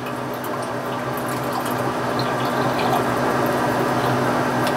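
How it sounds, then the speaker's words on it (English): Water poured from a container into a measuring cup while making a sourdough starter at home, giving a steady, continuous close splashing flow with no talk. "Just pouring out my water."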